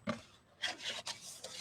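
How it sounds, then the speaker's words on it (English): Scored cardstock being folded and burnished for a card box, giving several soft rubbing and scraping strokes, close and fairly quiet, with short pauses between passes. "So we'll put this away and we'll start to fold and burnish."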